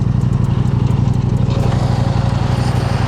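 KTM 890 Adventure twin idling and blipping through an Akrapovič-style aftermarket exhaust with the dB killer removed, a loud, close, throbbing burble with a quick rhythmic pulse and a rev rise midway.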